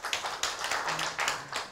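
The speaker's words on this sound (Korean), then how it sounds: "광주시 지속가능발전협의회 다시 한번 큰 박수 부탁드리겠습니다." Audience at a Gwangju city urban regeneration forum on a resource-recycling shop breaks into sustained applause, many hands clapping at close range with uneven swells for almost two seconds.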